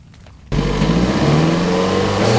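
A 2003 Toyota MR2 Spyder engine bursts into a loud, close rev after a brief quiet start, the pitch climbing steadily as the car accelerates.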